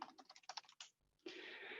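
Quick keystrokes on a computer keyboard tap in a rapid run, pause briefly, then a louder burst of continuous key noise follows.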